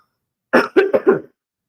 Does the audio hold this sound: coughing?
yes